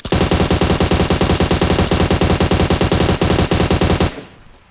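Sustained rapid automatic gunfire from the PUBG Mobile video game, a loud, dense stream of closely spaced shots running for about four seconds before cutting off into a faint tail.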